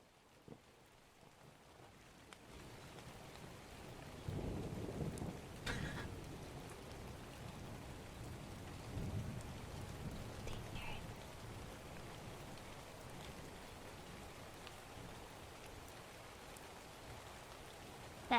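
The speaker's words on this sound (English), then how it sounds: "That rain sounds mighty wet." Steady rain patters on a surface throughout, with a low rumble of thunder swelling partway through, played back as a sound effect at a moderate, even level.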